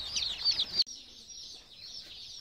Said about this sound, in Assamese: পোৱালি কিটা ইমান কানিছে